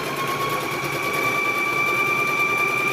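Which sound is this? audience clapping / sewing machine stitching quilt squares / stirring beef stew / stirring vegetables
sewing machine stitching quilt squares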